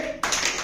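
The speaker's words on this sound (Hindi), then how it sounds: "क्लैपिंग है सब इसके लिए" A brief burst of hand clapping that starts abruptly, several quick claps blurring together, fairly close and loud.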